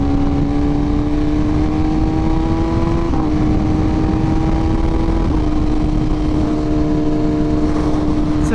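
A 2023 BMW S1000RR motorcycle engine runs steadily at high revs while riding, its pitch climbing slowly and slightly, with constant loud wind roar over the whole stretch.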